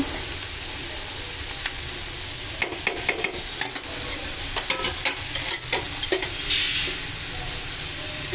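Cucumber pieces sizzle steadily in a hot pan with onions and chilli powder, broken by repeated clacks and scrapes of stirring that cluster near the middle of the stretch; close and fairly loud, with no talking.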